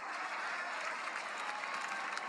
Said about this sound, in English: Everybody came out to come and clap it up for AJ Styles.